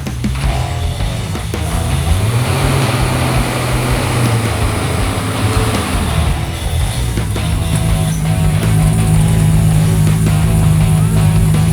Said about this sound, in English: We're moving the forklift.